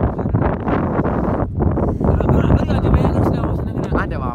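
Wind blowing on a cold morning in Ooty, a steady loud rush buffeting the microphone throughout, with a brief lull near the middle.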